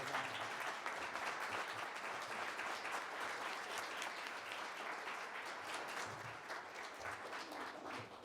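A lecture audience applauds its two speakers with a dense, even roll of clapping from many hands that holds steady throughout and fades slightly near the end, with no talking.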